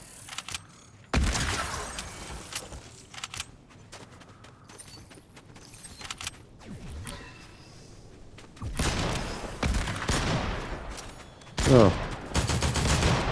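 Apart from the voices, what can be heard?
gunfire in the video game Fortnite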